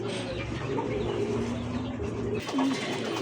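A male magpie pigeon, red in colour, coos in a low repeated murmur close by, with faint background voices and other pigeon sounds at a breeder's loft.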